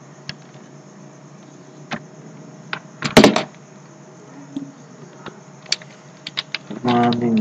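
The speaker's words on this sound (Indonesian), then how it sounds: "kita ketik menimbang A dan seterusnya." Scattered keystrokes tap on a computer keyboard, a few isolated clicks, then a dense rattling burst midway and quick runs of taps toward the end, with a voice starting up at the very close.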